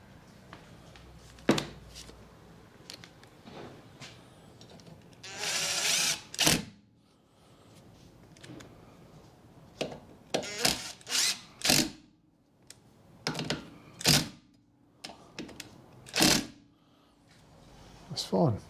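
A power tool drives brake bolts back in on a 2012 Ford Fiesta 1.2 Zetec petrol during rear brake work, in short whirring bursts, one longer run among several brief ones, with someone talking between them.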